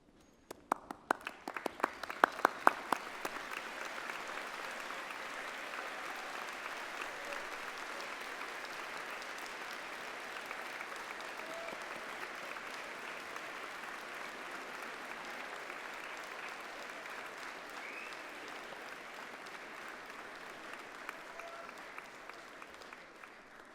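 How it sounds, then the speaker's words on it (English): A large crowd at a management faculty graduation ceremony bursts into sustained applause, starting with a few sharp claps and swelling into a dense, even roar of clapping that holds steadily before gradually fading. "join me in showing your thanks with a huge round of applause"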